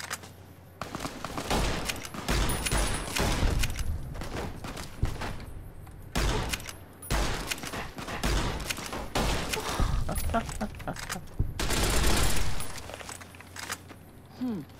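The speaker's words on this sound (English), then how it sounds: "good old-fashioned machine gun" Machine gun fire in the game Fallout: New Vegas, modded, coming in long rapid bursts separated by short gaps, loud and close, with a brief final volley near the end and no talk.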